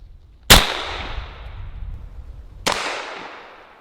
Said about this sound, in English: This time we're using Texoma Precision Pellet number 4 shot shells